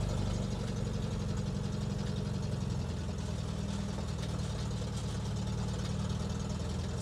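Old International Scout engine idling steadily with a rough, low rumble and a faint ticking from an exhaust leak, no voices.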